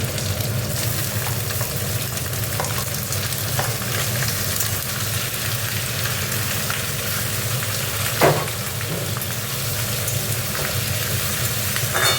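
Prawns and tomato fry in a pan with a loud, steady sizzle and crackle throughout, broken once by a brief clink or stir, and no talking.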